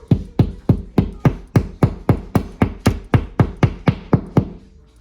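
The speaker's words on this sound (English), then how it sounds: "then just hammer it in like so. Lightly hammer it." Hammer lightly tapping a drywall anchor into a wall, about fifteen evenly spaced sharp knocks in a steady rhythm, close and clear, fading slightly at the end.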